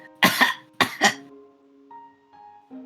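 A woman surfacing from thick LCL fluid coughs and sputters in two close, wet bursts, followed by faint tonal hum.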